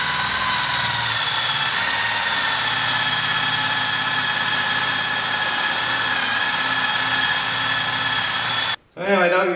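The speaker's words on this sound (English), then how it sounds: "with this eraser wheel, just put it on where your adhesive was and go at it" Eraser wheel on a power tool scrubbing automotive molding adhesive off car paint, a loud continuous whirring drone held steadily for several seconds before cutting off abruptly near the end.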